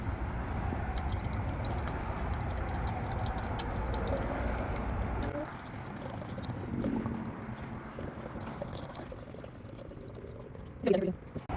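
Rainwater pours steadily into a container with a gurgling, splashing flow, then slows and ends with a short clatter near the close.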